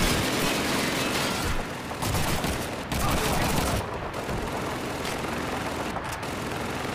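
Dense, loud gunfire fills a battle in the video game Call of Duty 2, rapid bursts and booms layered almost continuously with brief dips, while a voice talks faintly underneath.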